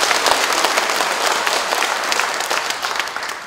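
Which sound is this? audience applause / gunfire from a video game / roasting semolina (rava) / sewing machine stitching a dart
audience applause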